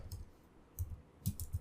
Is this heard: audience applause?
no